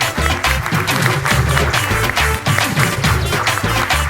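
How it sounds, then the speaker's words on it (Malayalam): Dense, steady audience applause from a crowd, a continuous wash of clapping lasting the whole stretch at fairly close, loud level. "എന്തൊരു നല്ലൊരു കൈയടി കൊടുക്കാം."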